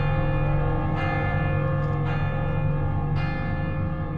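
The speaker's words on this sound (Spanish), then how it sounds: "A lo lejos podemos oír las campanas de Viviers, Mondol, Carfantin y Baguères-Morvan" Church bells ring from far away, heard as steady, sustained tolling tones with a few fresh strikes over a constant low hum, on their own without any voices.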